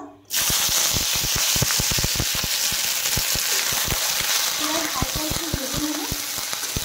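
Chopped onion and green chili sizzle loudly in hot mustard oil after cumin seeds, starting abruptly and crackling steadily with sharp pops throughout.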